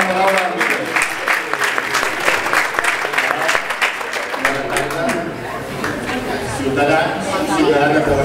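An audience applauds during a speech ceremony at the Fedelatina 2011 dance competition in Barcelona. Steady, dense clapping runs throughout, mixed with crowd chatter and voices.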